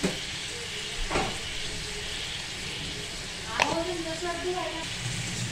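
Eggplant pieces sautéing in hot oil in a wok, salted, give a steady close sizzle with brief scraping clatters of stirring and a faint voice underneath.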